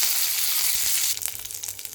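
Curry leaves drop into hot oil with browned green chillies, a bright steady sizzle that breaks into crackling, spattering pops as the leaves hit the oil.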